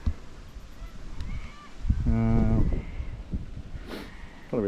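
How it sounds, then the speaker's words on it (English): Birds call across the open water of Anbangbang Billabong in Kakadu, with a loud honking burst in the middle, several scattered shorter calls and a final honk near the end, set against steady outdoor background noise. "Probably lots of bird life."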